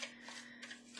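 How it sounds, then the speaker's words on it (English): Tarot cards being shuffled by hand, a soft papery riffling and rubbing that runs steadily for about a second at low volume, with no talking over it. "We're going to shuffle one more time here."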